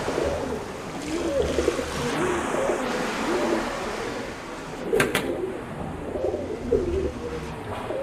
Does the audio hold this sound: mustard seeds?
no